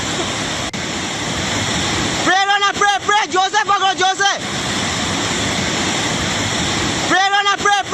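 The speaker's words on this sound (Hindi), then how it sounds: "जरा पानी का जो रौद्र रूप है," Raging floodwater roars as a loud, constant broadband rush close by, with frantic shouting voices breaking in over it twice.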